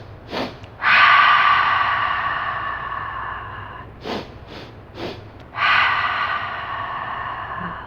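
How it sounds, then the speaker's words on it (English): Breathwork practice: a person takes three short, sharp nasal inhales, then lets out a long, loud exhale, and the pattern repeats, close and clear with no talking. "So 3 inhales into the nose and then long exhale out."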